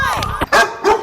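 A dog barks in a few short, loud bursts, with a sharp yelp near the start and two more barks following close together.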